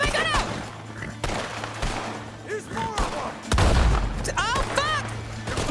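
Gunfire rattles and booms in a video game, bursts of shots and heavier blasts coming in waves, close and loud, with someone talking excitedly over and between them.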